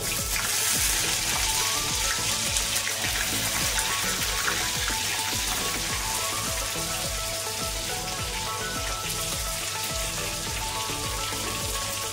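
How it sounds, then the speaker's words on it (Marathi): Loud, steady sizzling of eggplant frying in hot oil, a continuous crackling hiss that doesn't let up. "आता वांगे टाकून घेऊया तेलामध्ये."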